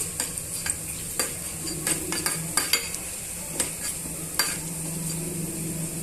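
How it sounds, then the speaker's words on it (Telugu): Chana dal, dried red chillies and tempering seeds fry in a pan with a soft steady sizzle, punctuated by repeated sharp taps and scrapes of a metal spoon stirring, close and quiet. "ఇప్పుడు పోపు గింజలు గింజలన్నింటినీ కూడా బాగా వేయించేస్తున్నాము"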